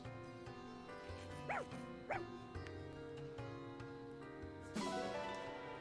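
A dog in the video game Fire Emblem Engage gives two short, yipping barks about half a second apart, clear over quiet, steady background game music.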